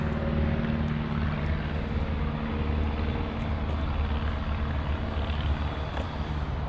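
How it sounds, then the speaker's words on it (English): An airplane passes overhead near an airport beside an abandoned canal, a distant, low, steady droning roar that stays constant throughout, with no talking. "We're close to the airport, so we got airplanes flying over."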